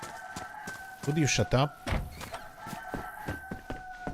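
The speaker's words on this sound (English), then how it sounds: "That rooster just won't stop." A rooster in the game Livonia crows close by, a loud rising-and-falling call with a harsh, strained tone. A voice speaks over the surrounding sounds.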